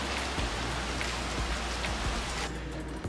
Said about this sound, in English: As usual, Washington's pouring rain, especially in this winter season.